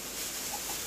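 Minecraft chickens let out a few soft, short clucks over a hissy, quiet game background, brief and faint.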